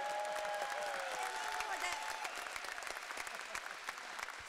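A large audience in Halmstad Arena cheers and applauds at a festival, dense sustained clapping with whistles and shouts that thins slightly toward the end, with a voice briefly audible over the crowd.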